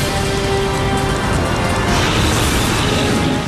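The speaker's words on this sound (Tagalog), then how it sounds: "yan ang mismong pagsabog sa pabrika ng pandikit sa bansang Japan" An explosion at a glue factory in Japan, heard as a loud, dense, continuous roar and rumble filling the whole clip, with no voices over it.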